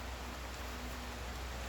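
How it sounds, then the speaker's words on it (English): Steady rain hisses outside a workshop as a soft, even wash of noise, faint and continuous with no voices over it. "It's been raining since about, I don't know, midnight last night,"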